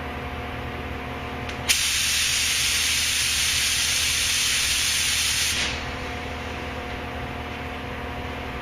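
Spray gun laying a first light coat of paint on Duramax truck doors: one steady, loud airy hiss lasting about four seconds, starting with a sharp burst and then tapering off, with a low background hum before and after.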